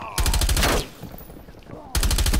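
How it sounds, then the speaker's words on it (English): Sentry turret firing in Call of Duty Black Ops Cold War, two loud rapid automatic bursts close by separated by a short gap of game ambience. "Enemy sentry turret detected in your AO."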